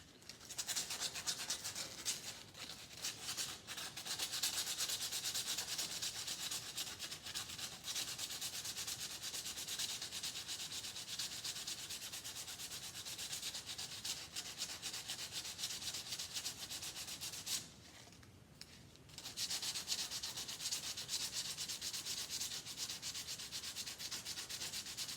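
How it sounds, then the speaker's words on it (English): Fine 220-grit sandpaper rubbed by hand over boat wood, a steady close scratchy sanding that runs continuously with one brief pause near the end. "I'm going to take some very fine, like 220 sandpaper on there and just smooth that out as much as I can"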